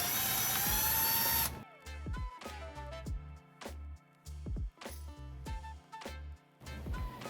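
A power driver with a T20 Torx bit backs a screw out of a Tesla Model S instrument display, a high whine that cuts off and then restarts in short repeated bursts, close and fairly loud.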